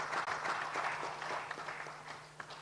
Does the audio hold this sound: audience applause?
yes